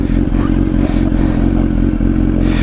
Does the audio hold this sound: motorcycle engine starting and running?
yes